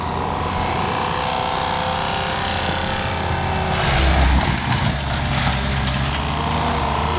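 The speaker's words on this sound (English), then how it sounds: "Mike is in the skid steer." Skid steer engine running at a wooded home site being cleared, a steady mid-distance diesel drone with a brief louder surge partway through, no talking.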